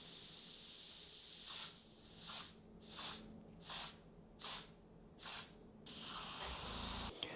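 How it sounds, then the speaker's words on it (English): An airbrush hisses in a long steady burst, then sprays in five short, even spurts before another long continuous hiss, close and airy. "It's an airbrush rather than a spray gun"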